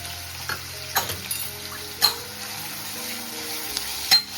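Onions sizzling in a pan after salt is added, a soft steady fry with a few sharp stirring scrapes and clicks, close by, no talk.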